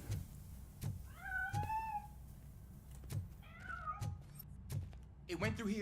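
A cat meows in a video game, several drawn-out rising meows spread over a few seconds amid soft thuds and knocks, ending with a harsher yowl.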